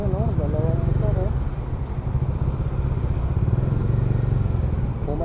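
Two motorcycles riding on a road, engines droning steadily and loudly throughout with a rider's voice talking over them.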